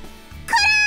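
Cartoonish cat meow from a video game after the cat gets bonked, a short bright cry rising out of quiet background music, close and clear.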